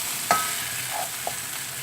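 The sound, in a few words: stirring coriander masala in a frying pan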